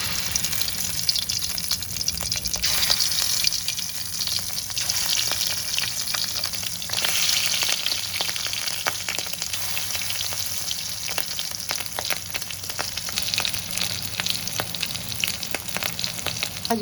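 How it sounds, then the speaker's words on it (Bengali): Fish roe frying in hot oil in a wok, a steady close sizzle with crackling spatters running throughout, no voices. "প্রথমে আমি কড়াইতে তেল দিয়ে নিচ্ছি। এই মাছের ডিমগুলো ভেজে নেব।"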